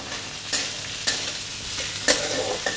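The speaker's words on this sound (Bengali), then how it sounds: "4টে বড় স্প্রিং অনিয়নের গোড়া কেটে নেওয়া, এগুলোকেও ভাজতে দিয়ে দেওয়া হলো" Chopped chilies and spring onion bases fry in a pan with a dense, steady sizzle, punctuated by four sharp spatula knocks spaced about half a second to a second apart, close and without speech.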